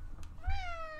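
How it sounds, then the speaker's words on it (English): A cat by a computer keyboard lets out one clear, rising then falling meow, close and fairly loud after a soft thump, with no talking. "Get your smelly foot off my keyboard, smelly cat."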